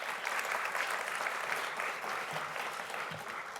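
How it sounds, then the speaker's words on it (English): Steady applause from a crowd fills the whole stretch, dense and continuous without a break, with no talking over it. "Great round of applause again for Brian Diamond."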